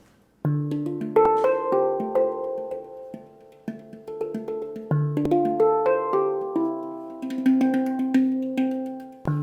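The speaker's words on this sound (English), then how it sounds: "as you hear, the sound of handpan is very rich and full" A handpan is played in a slow, flowing pattern of struck, ringing notes, each with a soft attack and long shimmering sustain, close and clear.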